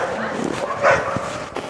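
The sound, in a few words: dog barking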